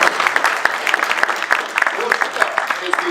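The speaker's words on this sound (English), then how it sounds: "This is when we applaud for everybody." Audience applause for a craft non-alcoholic beer panel, steady clapping from a crowd with a voice briefly audible underneath.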